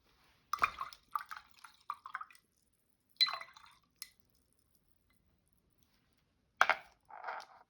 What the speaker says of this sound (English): So I need to mix the paint